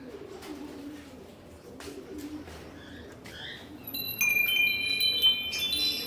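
Breeder pigeons in a loft coo softly in low, throaty murmurs over a steady hum, with scattered bird chirps and a few sharp high tones joining toward the end.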